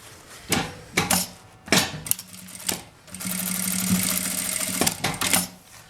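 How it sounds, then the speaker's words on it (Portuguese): Home sewing machine stitching a seam along a marked line on fabric for a small zippered pouch, with short bursts of running, a longer steady run in the middle, then more brief stitching spurts and clicks. "Então agora eu vou na máquina e passar a costura aqui."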